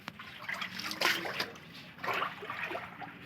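Floodwater still standing outside a home after a typhoon trickles and splashes softly in uneven bursts, faint and close, with no talking.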